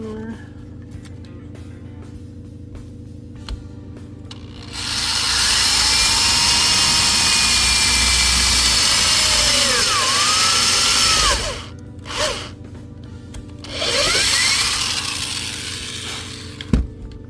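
A power drill bores holes in a broken car interior panel, a loud whining burst lasting several seconds followed by a short blip and a second longer run, with quiet room tone between.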